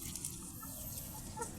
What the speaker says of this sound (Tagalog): parami ng lahi ng ating mga manok dito